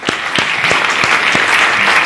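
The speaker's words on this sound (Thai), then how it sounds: "เพราะฉะนั้นปรบมือให้หน่อยแม้ว่าจะเสมอก็ตามฮะ" An audience bursts into dense applause, loud and sustained, with a few sharper individual claps standing out from the steady wash of clapping.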